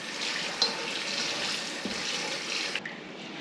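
Water from a kitchen tap runs steadily into a sink while meat is rinsed, a continuous close hiss with small splashes and clinks.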